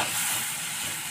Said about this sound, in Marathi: यामध्येच वाटाणा पण टाकून देत आहे मी.